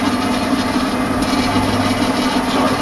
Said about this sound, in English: Straight to the bandsaw.